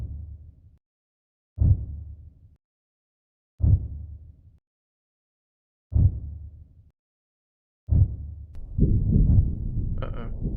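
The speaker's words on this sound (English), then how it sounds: "Heartbeat." A heartbeat pulses in the horror video game Evidence: The Last Ritual: five deep, evenly spaced low thuds about two seconds apart, each fading quickly, before a murky rumbling swell rises at the end.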